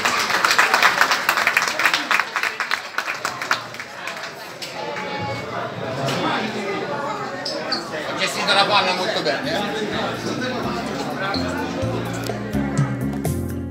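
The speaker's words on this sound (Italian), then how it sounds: "Un altro applauso." Applause from guests at a Christmas party celebrating the Baldini stable, starting as loud, dense clapping that fades after a few seconds into chatter and music.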